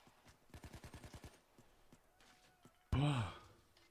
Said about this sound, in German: Manchmal siehst du gar nicht, wovon die Schüsse kommen